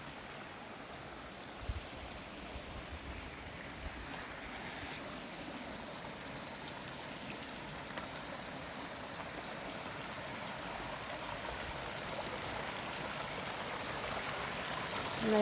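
A woodland brook in Northern Maine on a hot day flows steadily, producing a soft, continuous wash of water that swells slightly toward the end, with no voices.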